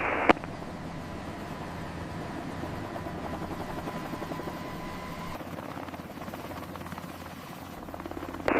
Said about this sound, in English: Hover stable, all instruments green, preparing liftoff.